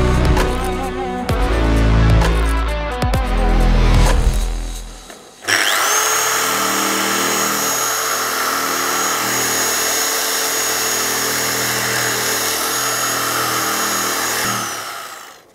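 HDO 550F machine polisher with an orange pad working new car paint: after a few seconds of an unrelated sound, a loud, steady motor whir starts abruptly and holds evenly before cutting off.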